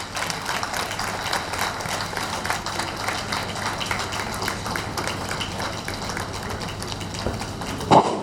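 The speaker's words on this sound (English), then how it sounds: "Another round of applause for the Attorney General and Commissioner for Justice of Lagos State" Sustained applause from an audience at a Law Week 2024 opening ceremony in Lagos, a dense steady clatter of many hands filling the hall and running evenly throughout, with a brief louder burst near the end.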